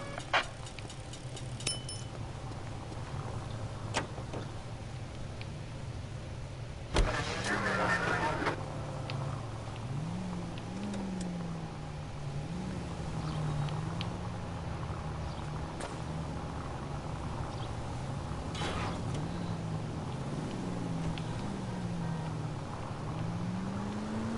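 A car drives in the LA Noire video game, its engine rising and falling in pitch as it accelerates and slows, a steady mid-level hum with a few brief clatters.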